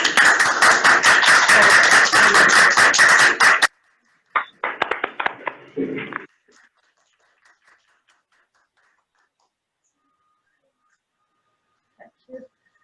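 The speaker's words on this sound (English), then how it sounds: "So now, ladies, round of applause" An audience gives a round of applause at an awards interview, a dense burst of many clapping hands for a few seconds, followed by a short fainter spell and then near silence.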